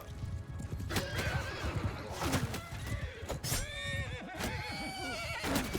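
A horse in a video game battle neighs and whinnies repeatedly amid hoof clatter and sharp impact thuds, several shrill cries rising over a busy, clashing background.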